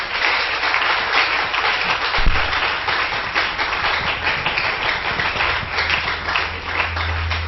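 A church congregation applauds loudly and continuously during worship, dense clapping filling the space with a low rumble swelling near the end.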